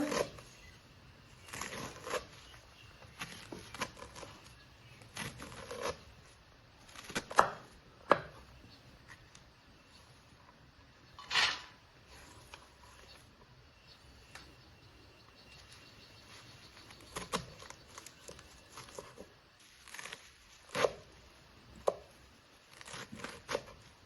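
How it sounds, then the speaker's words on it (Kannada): Black nightshade greens being chopped into small pieces with a knife, heard as scattered crisp knocks and bursts of cutting on a board, close and fairly quiet, with no talking. "ಇದೇ ರೀತಿ ಎಲ್ಲವನ್ನು ನೀಟಾಗಿ ಚಿಕ್ಕ ಚಿಕ್ಕದಾಗಿ ನಾನು ಕಟ್ ಮಾಡ್ಕೊಳ್ತಾ ಇದ್ದೇನೆ."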